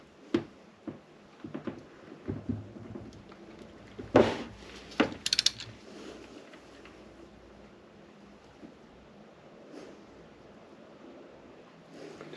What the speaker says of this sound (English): we have this angular torque reading device